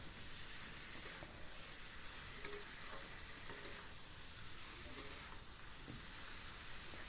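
Spices and cauliflower curry fry in a pan, giving a steady, faint sizzle with soft stirring scrapes and a few light taps, continuous and unbroken throughout.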